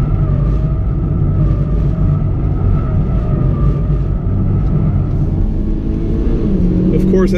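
A Mitsubishi Lancer Evo MR circling a figure-eight course gives a steady, loud engine drone and rumble under continuous throttle, with a brief change in tone near the end.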